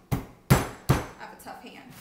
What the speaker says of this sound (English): We got the spaghetti squash. We're going to go ahead and cut this up.